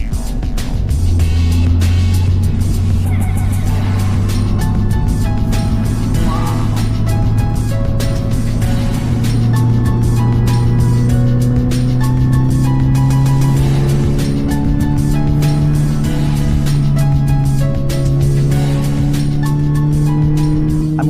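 Toyota GR86 Yuzu Edition on a racetrack, its engine note droning steadily and loud up close, the pitch shifting gradually as the car slows and then builds again, with wind and road noise throughout.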